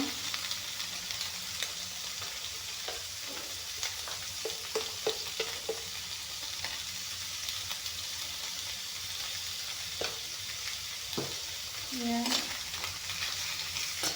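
Pieces of fish fry in a pan with spice powder, a constant close sizzle broken by several sharp utensil clacks and stirring scrapes.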